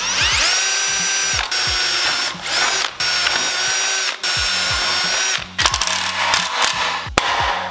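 Power drill driving a screw into a DIY utility trailer, loud close whining bursts that start and stop several times with rising and falling motor pitch, alone without talk.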